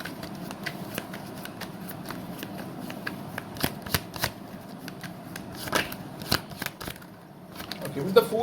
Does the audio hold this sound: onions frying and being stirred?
no